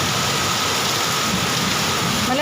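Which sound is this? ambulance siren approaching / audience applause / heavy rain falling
heavy rain falling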